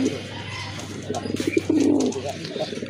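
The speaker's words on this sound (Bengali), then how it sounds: "খুবই অ্যাক্টিভ কবুতর, দেখার মতো সেই লেভেলের ডাকে কবুতরগুলো" Pigeons cooing in a pair kept by a breeder, several soft, low throaty coos in quick succession, close by, with light background noise.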